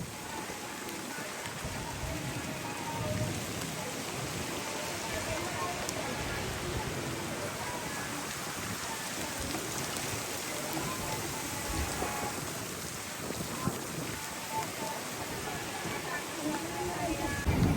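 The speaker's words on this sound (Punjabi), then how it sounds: "ਮੀਂਹ ਵੀ ਪੈ ਰਿਹਾ ਬਹੁਤ ਜ਼ੋਰ ਦਾ" Heavy rain pours down in a constant roaring hiss throughout, steady and close, with no clear voices over it, during a storm with strong wind.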